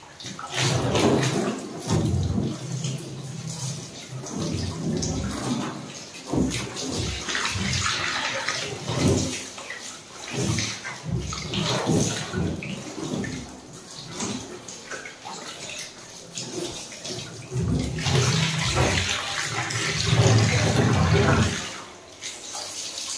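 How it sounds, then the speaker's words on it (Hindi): Water is poured and splashed while a black and white ball is washed, loud and close, coming in uneven gushes and trickles with short lulls and a heavier stretch of pouring near the end. "पहले पानी डाल देती हूँ"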